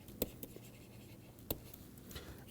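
Two or three quick, crisp taps of chalk or marker on a board while an equation is written, separated by a faint steady background hiss.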